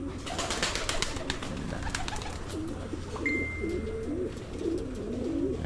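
Pigeons coo in soft repeated rolling calls in a loft of young racing birds, steady under faint background noise with a brief whistle-like tone midway.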